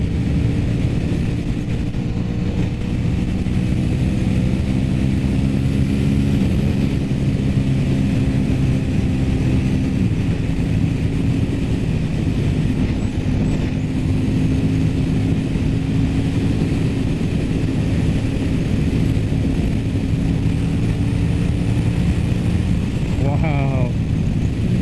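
Aprilia RS 660 motorcycle engine pulling hard under steady acceleration, a continuous loud droning roar with quick-shifter gear changes, wind noise throughout and a brief voice near the end.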